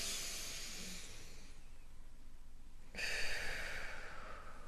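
A deep breath during a breathing exercise: a long airy inhale fades out, then a breathy exhale surges in partway through, close and hissing, with no talking.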